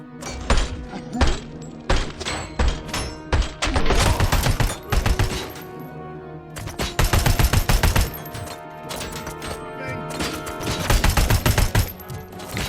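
Repeated bursts of gunfire in the Robocop: Rogue City video game, loud volleys and rapid automatic shots clustered in several heavy bursts with brief pauses between them.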